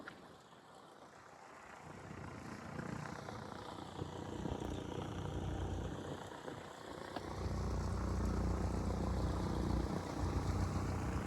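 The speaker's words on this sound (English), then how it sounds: "Fourth time taking off and landing?" Small airplane running through repeated takeoff and landing circuits during a solo flight, its engine drone rising and falling steadily from inside, with no talk.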